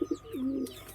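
Pigeons cooing close by in a backyard loft, a few short soft coos followed by a longer rolling coo, with no voices.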